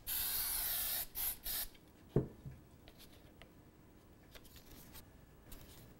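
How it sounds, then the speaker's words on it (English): Spray adhesive hissing from a can in a few strong bursts at the start, followed by a sharp tap and quieter rustling handling sounds. "I'm going to start by sticking them down with a little bit of the same spray adhesive."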